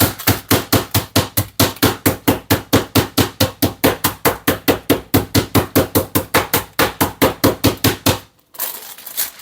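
Rolling pin pounding a folded pork cutlet thin for Korean dongaseu, about forty rapid, even, loud thuds in a steady rhythm, stopping abruptly near the end.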